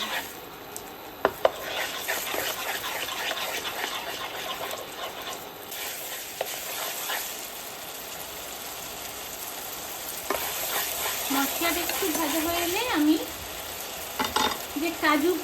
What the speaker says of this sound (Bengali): তেলে এগুলোকে একটু ভাজা ভাজা করে নিতে হবে